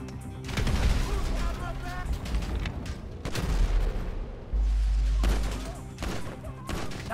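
Gunfire and a frag grenade explosion in a GTA 5 shootout inside a building: bursts of shots, then a heavy low boom, loud and close, with shouting voices in between.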